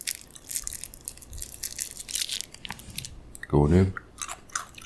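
Two pieces of MRE chewing gum with a thin, crispy candy shell are pressed out and crunched up close, giving dense crackling bites at first, a short spoken remark, then fainter chewing continuing.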